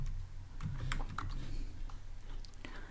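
Code being typed on a computer keyboard for a drawing app, a steady run of soft, close key clicks with a low background hum and no talk.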